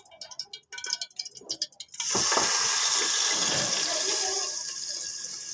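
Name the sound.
pouring jaggery syrup into a cooking pot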